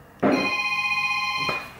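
A telephone rings once, close and loud, a single sustained electronic tone lasting over a second before it cuts off.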